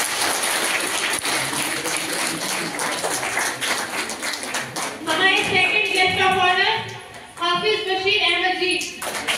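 An audience at a quiz competition applauds, the scattered clapping mixed with chatter and a voice speaking over it, then a swell of louder, fuller applause near the end.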